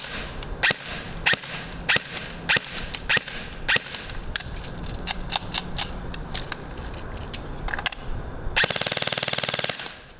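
A Sig MCX Virtus airsoft gun fires .20 gram BBs in a string of sharp single shots, spaced irregularly and fairly loud, ending with a rapid full-auto burst near the end.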